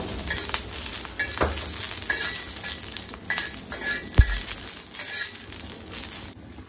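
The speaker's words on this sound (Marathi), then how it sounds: "मिरच्या छान भाजण्यासाठी आपण यावर थोडासा एक तेलाचा काटा टाकूया, म्हणजे मिरच्या छान भाजल्या जातील" Green chillies roast in a little oil in a pan, giving a soft steady sizzle punctuated by metallic clinks and scrapes of a utensil, including a sharp knock near the end.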